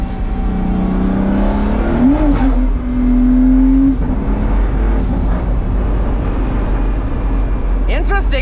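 Pagani Huayra AMG V12 hypercar accelerating in sport mode, its engine note rising in pitch through a gear change and climbing again, loud and close from inside the car, with brief voices over the steady drone.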